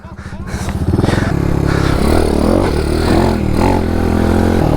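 A Honda DAX motorcycle fitted with a custom fuel tank is ridden nearby. Its small engine revs and climbs steadily with gear changes, loud and continuous with no talk.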